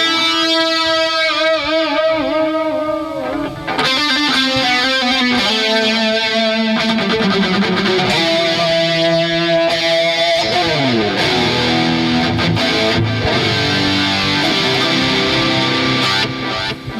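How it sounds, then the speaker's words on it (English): Electric guitar played through an inexpensive Temu effects pedal set with reverb and delay; sustained chords and single notes ring out with long, washy tails, loud and close with no talking. "now we're going to go into the reverb territory"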